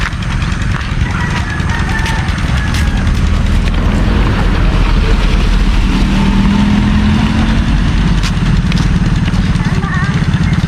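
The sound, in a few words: car passing on road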